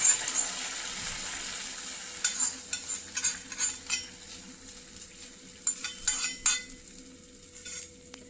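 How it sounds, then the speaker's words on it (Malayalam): Hot tempering with curry leaves being stirred into a coconut milk fish curry with green mango, with a faint hiss and a series of close spoon clinks and scrapes against the pot, no talk. "താളിപ്പ് മീൻ കറിയിലേക്ക് ചേർത്ത് കൊടുക്കുക"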